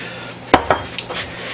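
Garlic added and mixed into broccoli in a bowl, with a few sharp clinks of a utensil against the dish and soft scraping, close and brief, no talking.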